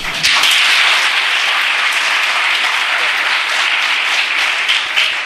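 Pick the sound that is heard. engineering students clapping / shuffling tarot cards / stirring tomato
engineering students clapping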